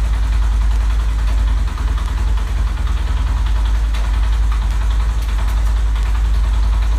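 A motorcycle engine idles steadily at rest, its low, continuous rumble holding even and loud throughout with no revving and no voices.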